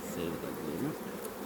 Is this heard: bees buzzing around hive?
yes